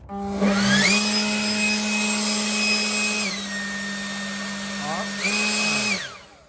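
Ryobi 40V leaf blower on turbo blast: a loud, close, steady whining roar that dips in pitch partway through, surges again and then winds down at the end.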